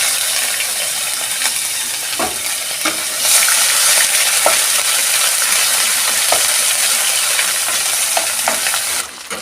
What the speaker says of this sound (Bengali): আদা রসুন পেঁয়াজের পেস্টটা আমার ভালো করে বাদামি করে ভাজা হয়ে গেছে